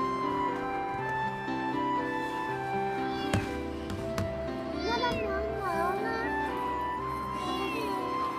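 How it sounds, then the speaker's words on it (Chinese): A stray kitten gives a few brief, wavering meows partway through, mixed with voices and a steady background tone. "小猫猫就在这儿。"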